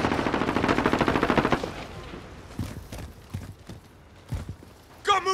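Rapid automatic gunfire in Call of Duty: Modern Warfare near an electronics store: a loud sustained burst, then scattered single shots farther off, with a brief voice at the end.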